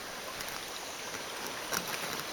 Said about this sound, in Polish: Właśnie tak sobie wpada potoczek do rzeki Wdy.